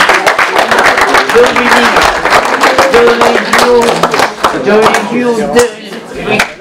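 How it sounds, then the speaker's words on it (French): Applause from an audience at a hospital New Year's wishes ceremony in Malestroit, a dense, steady wash of clapping lasting several seconds, with voices talking over it. "On peut applaudir également."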